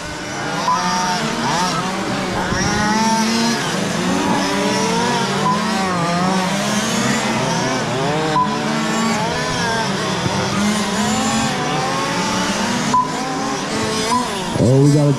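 Two-wheel-drive RC cars race around an outdoor track, their high-pitched electric motors whining and revving continuously as they pass; a race announcer talks over the motor noise throughout.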